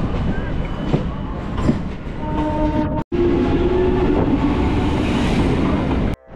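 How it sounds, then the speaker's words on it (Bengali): Local passenger train on the Howrah to Tarakeswar line rumbling steadily along as it leaves Kolkata for green countryside, loud continuous wheel and carriage noise with brief clatter, nearly empty coach, a short break midway. "আমাদের ট্রেন শহর কলকাতা ছেড়ে সবুজের মধ্যে দিয়ে ছুটে চলেছে তারকেশ্বরের দিকে"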